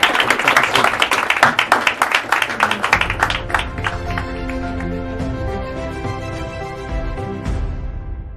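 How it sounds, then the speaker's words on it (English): Brisk audience clapping for a volunteer at a stage hypnosis show, a loud dense patter for a few seconds that thins out as sustained, tonal music takes over and plays on alone. "Give her a round of applause."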